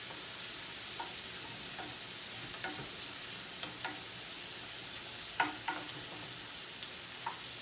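Shrimp and garlic fry in a pan for lowcountry shrimp and grits, a quiet, steady sizzle punctuated by scattered scrapes and clicks of tossing and stirring, with no talking.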